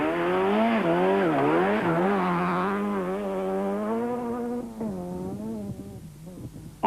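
A little Fiat Uno rally car on a 1993 Sasol Rally stage, its engine loud and close, revving up and down in repeated sweeps as it is thrown through bends, then easing off near the end.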